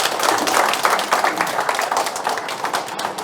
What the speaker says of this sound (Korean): 큰 박수 모시겠습니다.